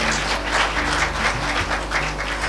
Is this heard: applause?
yes